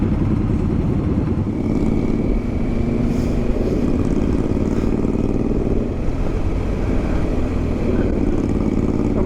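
Several chopper motorcycles with a group flag pass on a road in a steady, loud engine rumble that holds for the whole stretch, with no clear single pass-by peak.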